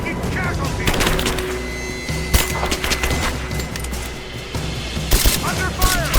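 A firefight in Rise of the Tomb Raider erupts with rapid bursts of automatic gunfire and scattered louder shots and thuds, close and continuous, while soldiers shout over the shooting.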